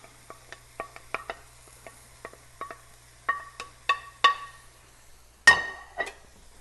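Vegetables are tipped back into a hot pan of browned hamburger for cabbage lasagna, bringing a string of close clinks and scrapes and a final loud clatter over a faint sizzle.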